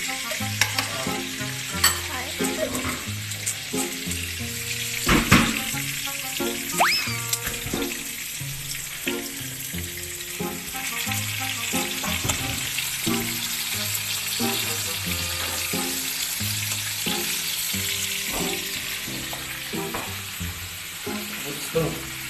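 Pork chops sizzle in a frying pan in a home kitchen. The crackle is continuous and close, broken by clanks of utensils and stirring, with brief splashy water-like sounds mixed in.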